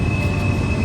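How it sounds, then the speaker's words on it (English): A train rumbling past on the track at Horseshoe Curve, a loud, continuous low roar with a steady high whine above it, heard up close without any voices. "Nick, here comes the second train up the other side of this track"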